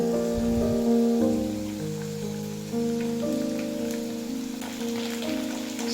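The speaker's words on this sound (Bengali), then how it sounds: "আলু লো টু মিডিয়াম ফ্লেমে দুই মিনিট মতো ভেজে নিয়েছি এরপর এড করে দেব সিম" Flat beans tossed into potatoes frying on a low to medium flame in a pan make a steady close sizzle throughout, with a sustained tonal background beneath it.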